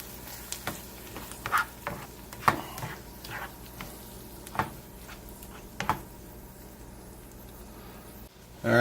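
Beaten egg cooking in a pan for Tex Mex migas with softened vegetables, giving a low, steady sizzle punctuated by scattered clicks and scrapes of a utensil, with a louder clatter at the very end.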